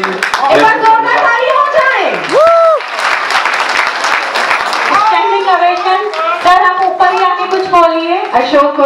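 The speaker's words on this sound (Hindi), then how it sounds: "सब लोग खड़े होकर ताली बजा रहे हैं" An audience at an event honouring a visually impaired student rises and claps, with steady applause continuing beneath a prominent singing or speaking voice.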